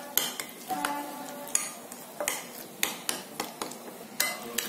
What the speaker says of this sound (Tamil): இப்ப இஞ்சி பூண்டு பேஸ்ட் போட்டோடனே மசாலாவை நல்லா மிக்ஸ் பண்ணிக்கலாம்.